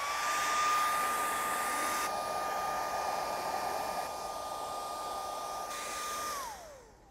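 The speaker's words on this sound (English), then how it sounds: "So this is our heat gun." A heat gun blows hot air with a steady, loud whoosh and constant whine, then winds down and cuts off at the end.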